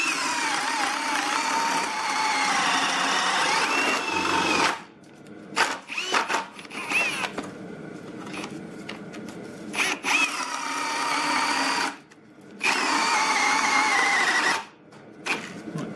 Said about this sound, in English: We're going to see how many holes we can do on my grid here within, let's say, 2 minutes.